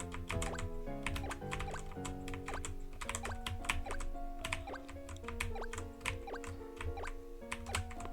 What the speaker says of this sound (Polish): Moja no klawiatura za tak, chwilę tego nie wytrzyma.